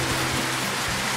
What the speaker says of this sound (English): we got the first rain of the season, and boy, was it needed